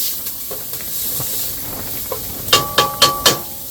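Onions and venison sizzle in a pan with a steady, close hiss of frying, followed near the end by four sharp, evenly spaced clinks or scrapes of stirring.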